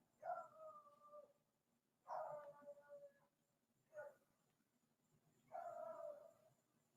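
A dog howls in several drawn-out, wavering bursts with pauses between them, moderately distant against a quiet background.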